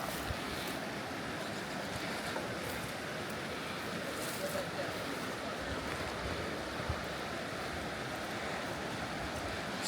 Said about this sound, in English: There's a lot of fast water in this area, as you can see.